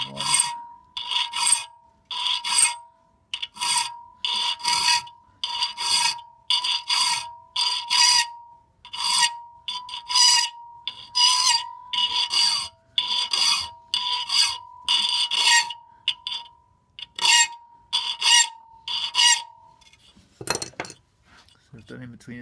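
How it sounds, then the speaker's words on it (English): An ice axe's teeth are filed by hand with a file, giving a long series of rhythmic metallic rasping strokes. The strokes are loud and close, each about half a second long, with short pauses between them. "So I've done in between the teeth, and now I'll just sharpen these with the flat file."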